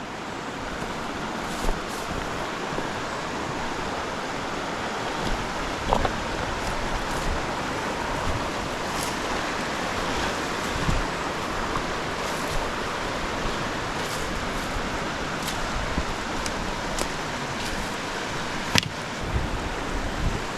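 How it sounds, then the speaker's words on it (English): Stream water flows steadily along a smallmouth bass fishing stretch, a constant broadband rush with a few faint splashes and clicks, moderate and unbroken, with no voices. "we got an absolutely beautiful flow in from this stretch of stream into this one out here"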